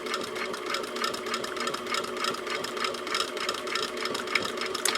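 A sewing machine runs steadily while stitching across a zipper pouch, a close, continuous rapid whirring with fine mechanical rattling that holds without a break.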